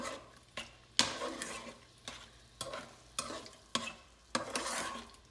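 Shrimp seasoned for spicy Thai BBQ frying in a pan, stirred in a series of scraping, sizzling bursts about every second, close and fairly quiet with no talk.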